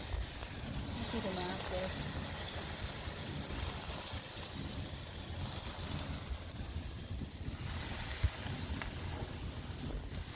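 Store-bought shrimp sizzle on a homemade hibachi grill, a steady close hiss that runs the whole time with small swells, while a voice talks over it.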